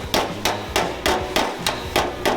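Sharp metallic strikes of a hammer and dolly on car body sheet metal ring out at a steady rhythm, about seven close blows, loud and alone.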